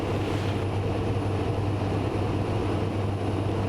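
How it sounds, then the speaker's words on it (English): Cresco crop-dusting airplane taking off from a hillside airstrip at max continuous power, a loud, steady, close engine and propeller roar with no breaks. "A little bit of back pressure, nose is off, and we're airborne."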